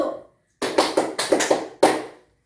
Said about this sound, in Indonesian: kalian tepuk tangan seperti ini